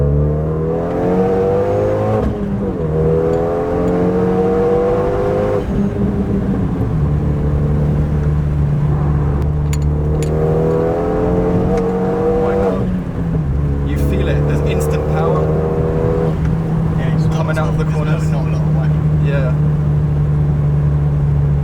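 A Renault Megane 275 RS accelerates hard out of a corner, its engine note climbing loudly through repeated rising revs and gear changes, heard from inside the car while people talk over it.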